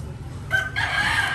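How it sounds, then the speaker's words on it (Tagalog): A rooster crows once nearby, a loud drawn-out call rising over a low background hum. "Manok."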